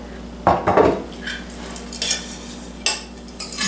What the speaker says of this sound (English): my butter is pretty well melted, so I'm going to mix it in with the pretzels and the sugar